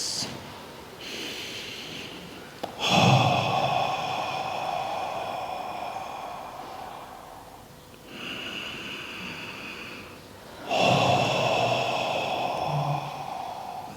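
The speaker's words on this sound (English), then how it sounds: "Just forget that and take 3 deep breaths" Slow, deep breaths during guided meditation: three long, audible inhales and exhales, each a drawn-out airy rush close to the microphone, separated by quieter pauses.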